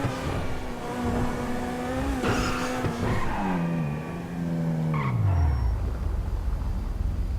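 A supercar in GTA V revs loudly and shifts through gears, the engine note climbing and dropping with each change and a brief tire squeal, then falling away as it slows.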